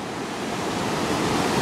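Sea waves roaring steadily during a flood in Agadir, a loud continuous broadband wash of surf with wind noise and no voices.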